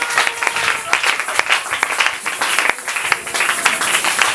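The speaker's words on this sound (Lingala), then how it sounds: "On acclame très fort pour le Seigneur." A church congregation at a worship service applauding, loud dense clapping from many hands that continues steadily throughout.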